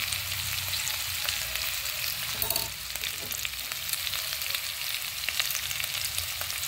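Alamang shrimp paste hits a hot pan of Bicol Express, giving a steady, loud sizzle and frying crackle throughout, with a brief stirring scrape partway through.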